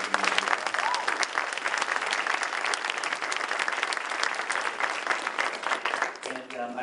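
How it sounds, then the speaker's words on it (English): Sustained audience applause fills a room at an entrepreneurial challenge finals, steady and dense for several seconds before thinning out near the end as a voice begins to speak. "Let's give them a round of applause."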